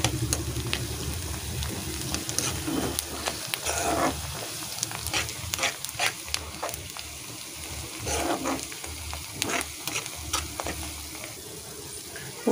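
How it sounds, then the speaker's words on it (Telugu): Curry leaves sizzle as they fry in hot oil while goat brain curry is cooked, a steady close crackle with scattered stirring clicks and scrapes throughout. "ఇలా కొంచెం వేగిన తర్వాత కరివేపాకు వేసేసుకోవాలి."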